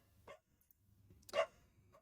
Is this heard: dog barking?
yes